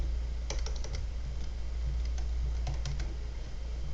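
Rapid bursts of keystrokes on a computer keyboard typing a short word, crisp clicks clustered in a few quick runs over a steady low hum, close and moderately loud, no voices.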